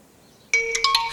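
A mobile phone ringtone bursts in after a quiet pause, a bright electronic melody of several quick tones, loud and close.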